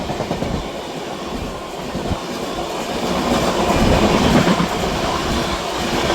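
A MEMU passenger train on the Vijayawada–Rajahmundry line rumbles past in the dark while another train overtakes it, with broadband rail roar and faint clickety-clack of wheels that swells toward the middle and stays loud throughout.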